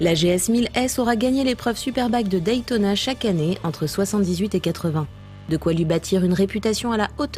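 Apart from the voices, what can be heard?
No everyday noises stand out.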